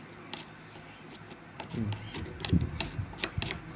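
Cotton wool being torn out of the bearing housing of a steel-headed electric fan, heard as a short run of soft, fibrous ripping and rasping sounds, quiet and close, with no talking.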